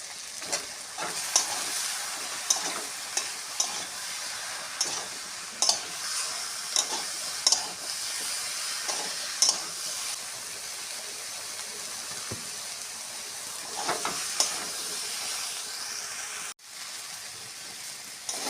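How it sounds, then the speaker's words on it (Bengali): Eggplant pieces coated in spices sizzle in a pan while a spoon stirs them, producing a steady frying hiss broken by repeated scraping and clicking strokes, with no talking. "মশলাগুলো দিয়ে বেগুনগুলো ভালো করে কষানো হয়ে গেছে।"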